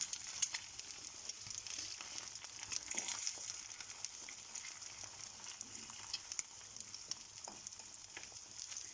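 Cheese and egg fry together in a pan with a continuous close sizzle and crackle, scattered sharp pops and faint scraping now and then, with no talking.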